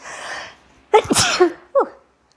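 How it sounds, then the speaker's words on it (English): A single loud sneeze close up, with a sharp intake of breath and a quick burst, followed by a short sniff. "Excuse me, I have to sneeze."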